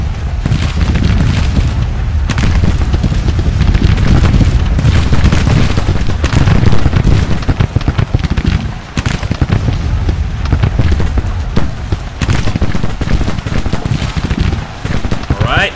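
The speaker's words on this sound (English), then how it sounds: "Canister shot directly into our line of men." Canister shot artillery fire in the Civil War strategy game Grand Tactician, a dense, loud barrage of booms and crackling musketry rolling continuously like heavy rain, with a voice talking over it.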